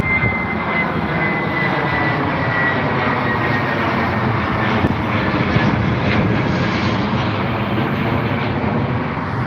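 A British Airways airliner's jet engines roar at Heathrow Airport, a loud, steady, broadband rumble with a high whine that continues throughout without a break, no voices over it.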